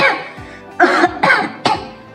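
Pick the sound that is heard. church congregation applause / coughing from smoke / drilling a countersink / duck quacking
coughing from smoke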